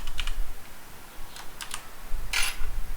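Short bursts of keystrokes on a computer keyboard while typing an HTML pre tag, a few quick clusters of taps with one louder burst near the end, close and alone with no talking.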